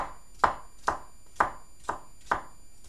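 Knife chopping through cucumbers on a cutting board, five crisp, evenly spaced cuts at a steady rhythm, close and clear with no talk.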